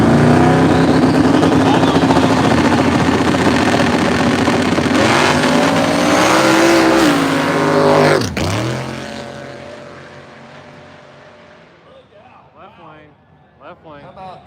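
Two no-prep drag racing cars, a 1970 Chevy Nova and a 1999 Camaro, roar at full throttle in a loud sustained blast, then fade into the distance as they run down the strip, with an announcer talking throughout.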